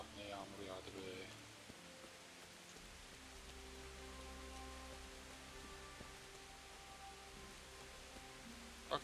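Steady rain falls in the video game Kingdom Come: Deliverance, a soft even hiss of drops over low sustained background tones. A single sharp tick sounds at the very end.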